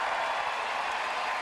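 Crowd roaring and applauding in the Pacific Coliseum arena for a former Canadian champion figure skater at the Four Continents Championships, a dense, steady wash of noise filling the whole moment without pause.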